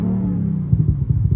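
A car's exhaust rumbles in sport mode, a loud, close, low idle that breaks into a run of uneven pops and burbles in its second half.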